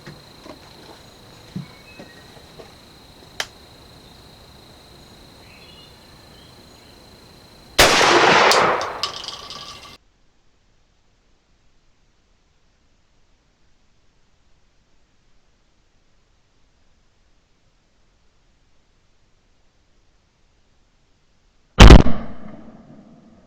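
A shotgun loaded with 1 1/8 ounce of Fiocchi number 2 shot and fitted with a mid-range Carlson's Creamator choke fires a loud blast after quiet outdoor ambience. Silence follows, then a second sharp burst near the end.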